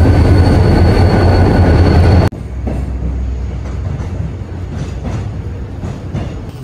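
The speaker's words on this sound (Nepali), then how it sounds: "हामी चाहिँ ट्रेनमा बसिसक्यो" Onboard a moving train in Korea, a loud constant rumble of wheels and carriage with faint rattles and clicks, briefly interrupted by a sharp drop before the steady roar resumes.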